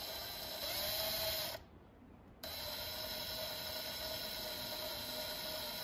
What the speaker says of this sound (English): It shouldn't take much to drill it.